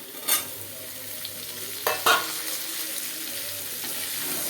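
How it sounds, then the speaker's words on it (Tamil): Ridge gourd frying in a pan with chana dal, a steady low sizzle with a few sharp stirring clatters near the start and around the middle, with no voices. "இப்போ நான் இந்த பீர்க்கங்காயை இதில் போடுறேன்"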